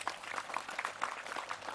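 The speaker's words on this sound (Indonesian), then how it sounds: "Tepuk tangan dulu nih." Listeners at a Hindu religious talk clap together, a soft, steady patter of applause heard from a slight distance with no talking over it.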